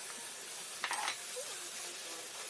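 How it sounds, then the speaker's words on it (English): Minced meat frying in a pan with cinnamon, cloves and pepper, a continuous soft sizzle with a brief scrape of stirring partway through. "we're going to fry the mince for at least 1 whole minute"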